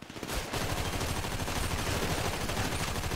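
Gunfire in GTA 5, a dense continuous roar of rapid shots and noise that starts abruptly and holds loud and unbroken for the rest of the clip, with no voices.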